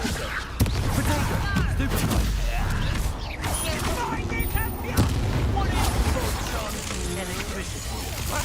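Confringo spell explosions in Hogwarts Legacy, loud booming blasts and crackling bursts repeating through a chaotic fight, with voices shouting in between.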